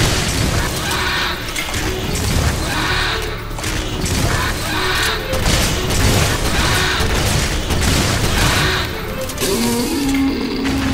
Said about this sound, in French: L'explosion du gecko a détruit le Mark III en même temps.